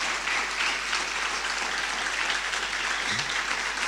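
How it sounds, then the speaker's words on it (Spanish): Church congregation applauding in praise during a Spanish-language service, a steady wash of many hands clapping at moderate level, continuous and even, with a low hum underneath and no talk. "Alabemos al Señor con un aplauso."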